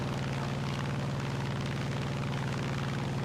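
A steady, droning propeller engine roar from an F4U-1C fighter plane in flight in War Thunder, continuous and close with a throbbing low hum and no talking.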